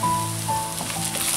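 Spice powders sizzling in a pan while being stirred for a prawn curry, a short steady hiss and crackle heard close and alone.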